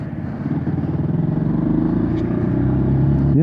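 A Zontes 125 C2, a small 125 cc motorcycle, runs steadily under way, its engine a rough, pulsing hum that builds slightly in loudness, heard close and alone with no talk.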